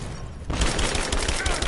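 Rapid gunfire bursts in Rise of the Tomb Raider on PS4 erupt after a brief quieter moment, a dense, loud fusillade of overlapping shots filling the rest of the short stretch.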